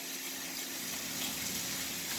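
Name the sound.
water running while rinsing a curly synthetic wig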